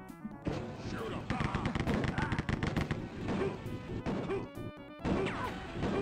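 Rapid gunfire from the 1994 DOS shooter Rise of the Triad, played on real hardware: loud, crisp shots repeat in fast bursts with only brief pauses, alongside crashing in-game impacts.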